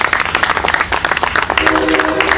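An audience applauds for a Civil War reenactor musician at Fontanafest, a dense burst of clapping, with a voice speaking briefly near the end.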